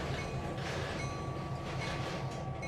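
A steady rumbling train sound with a hissing, grinding brake noise as the train brakes are applied in Trainz 2022, continuous and moderately loud, no voices.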